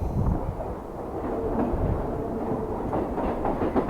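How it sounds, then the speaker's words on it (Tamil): A Mumbai EMU local commuter train rumbles past close by with a steady rolling roar and clickety-clack of wheels over rail joints, heard alone. "அடுத்து ஒரு லோக்கல் ட்ரெயின் கிராசிங் வேறேங்க"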